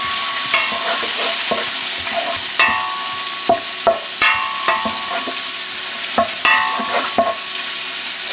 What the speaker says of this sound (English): we got our garlic, our sage, our oregano. We're cooking this down in the pot.